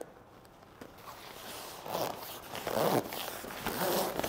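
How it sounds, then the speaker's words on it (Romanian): Zipper on the side wall of an 180 Overlander vehicle awning being drawn closed, a soft rasping pull in several short strokes that grows louder toward the end, with faint rustling of fabric and no talking. "Folosim frumos fermoarul."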